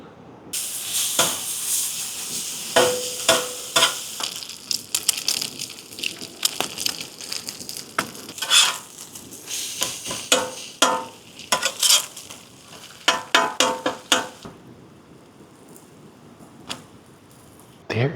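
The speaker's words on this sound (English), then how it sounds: "We are having some bacons, sausage, and eggs." Bacon, sausage and eggs fry in a pan at a truck camper, giving a steady crackling sizzle with bursts of popping and stirring scrapes, close and fairly loud, ending in a quieter stretch.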